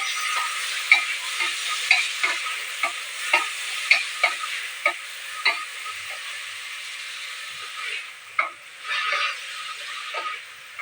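A tomato mixture fries in a pan with a soft continuous sizzle, while a spoon stirs in regular scraping strokes about twice a second that thin out toward the end.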